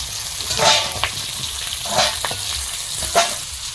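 Bori, lentil dumplings, frying in hot oil in a home kitchen, a steady close sizzle with occasional stirring scrapes and bubbling bursts.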